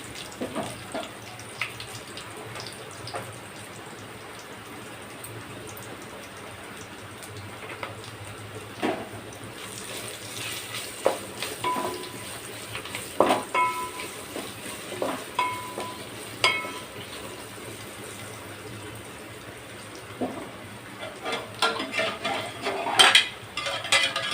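Onions fry in a pan as turmeric is added for a mango rasam, with a low sizzle, occasional spoon-on-pan clinks and stirring scrapes that grow busier toward the end.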